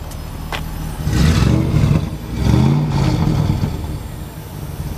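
A fuel-injected 1966 Chevrolet Nova engine revs twice with a deep exhaust rumble, heard up close from the rear of the car, and settles back to a steady idle between the revs.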